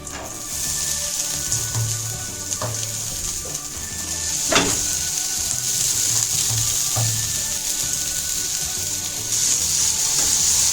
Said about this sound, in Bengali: একটু কালো জিরে আর কাঁচা লঙ্কা ফোড়ন দিয়েছি, এরপরে ওই আলুগুলো ছেড়ে দেবো।